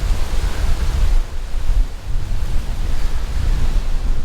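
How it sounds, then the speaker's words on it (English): Wind gusts buffet across a wide, sandy ocean beach at San Pedro near the Port of Los Angeles, a steady loud rushing roar with low rumbling surges and no voices. "The wind is picking up, so it will be a perfect day for those guys."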